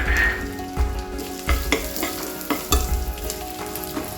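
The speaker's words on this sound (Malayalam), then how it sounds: "ഞാൻ തേങ്ങാക്കൊത്ത് വറക്കുക" Coconut pieces fry in hot ghee for a traditional Onam payasam, a steady close sizzle broken by several sharp stirring knocks and scrapes, with no talking.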